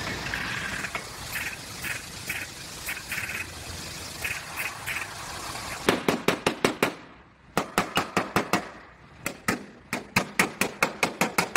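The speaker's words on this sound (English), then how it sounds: "I'm going to have to weld a tab right here" Welding a tab onto a Nissan 370Z bumper gives sharp crackling bursts, first in softer spaced pulses, then in loud rapid stitch-like runs that stop and start several times, close up.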